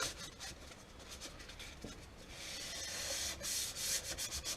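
Hand sanding of primer on a Kawasaki ZZR1400 lower motorcycle fairing with fine 2000 grit sandpaper, a soft, close rubbing rasp in quick repeated back-and-forth strokes that gets steadier and a little louder toward the end.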